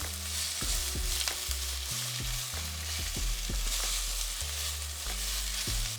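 Onions frying with salt over a high flame for a Kerala egg roast, a steady loud sizzle with scattered stirring scrapes throughout and no talking.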